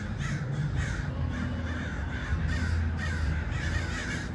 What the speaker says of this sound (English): all these birds lining up on this wire